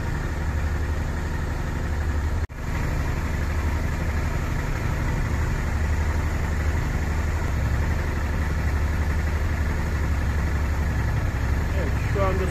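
A Honda XL 650 Transalp motorcycle engine idles steadily during carburetor synchronization, with a low, even throbbing hum and one brief dropout early on.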